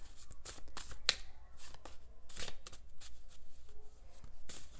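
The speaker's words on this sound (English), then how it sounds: "let me shuffle a few more out of here" Tarot cards being shuffled by hand during a pick-a-card reading, soft repeated riffling and sliding bursts close to the microphone, fairly quiet with brief pauses between them.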